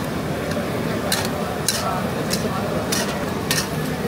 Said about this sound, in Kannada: ಹಲಸಿನ ಮಂಚೂರಿಯಂ ಮಾಡೋದು ಹೇಗೆ ಅಂತ ಇಲ್ಲಿ ಗೊತ್ತಾಗ್ತದೆ. ಹೀಗೆ ಫ್ರೈ ಮಾಡ್ತಾರೆ.